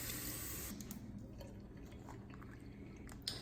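Tap water runs steadily into a flour-coated measuring cup being rinsed in a kitchen sink, a soft continuous splashing hiss with faint drips and clinks, fairly quiet throughout.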